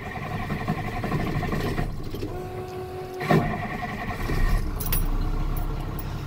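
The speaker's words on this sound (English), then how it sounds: "first you'll need the truck running." A truck engine runs at a steady idle, a low continuous rumble with some clunks and mechanical knocks from the cab partway through, fairly close and with no talking.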